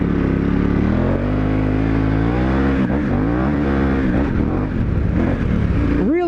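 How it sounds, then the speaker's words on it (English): A dual sport motorcycle on Mitas E-10 Dakar tires takes off on a gravelly road in a desert wash, its engine loud and close, revving up through gears with rising and falling pitch. "we're gonna get a first takeoff here on this gravelly road"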